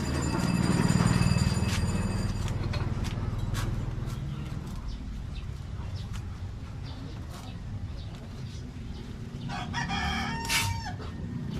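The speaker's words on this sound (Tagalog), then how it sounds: "Meron pa lang manok doon." A rooster crows near the start amid other farm fowl clucking, with another crow later and a steady background murmur, near a river.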